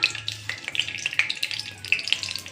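Cumin seeds crackle and sizzle in hot oil in a kadhai for tempering, a close, continuous frying hiss dotted with sharp pops.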